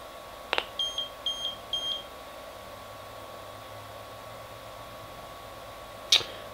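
FrSky Taranis radio transmitter powering on: a sharp click, then three short, evenly spaced electronic beeps, and another click-like blip a few seconds later, close and clear over faint background hiss.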